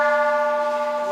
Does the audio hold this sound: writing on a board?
no